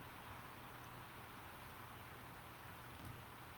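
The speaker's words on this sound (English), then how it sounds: "It's raining very hard out there." Heavy rain pours outside as a dense, steady hiss of drops, constant and fairly faint throughout with no voices.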